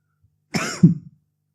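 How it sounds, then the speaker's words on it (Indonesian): A single cough, sharp and close, with a short rough follow-through, in an otherwise quiet room. "Itu batuk."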